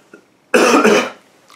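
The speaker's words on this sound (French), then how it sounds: "Je tousse toujours" A single loud, harsh cough close to the microphone, preceded and followed by near silence.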